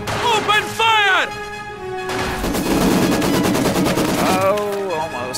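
Troops open fire in a military video game, rapid gunfire and machine-gun bursts crackling under game voices and music, with crashes mixed in.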